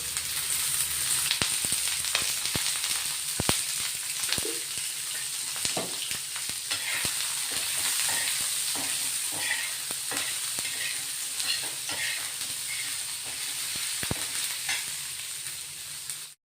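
Long-cut onion slices, two to three onions, sizzling and frying in a little oil in a pan, a continuous close hiss broken by frequent sharp spatters and stirring clatters.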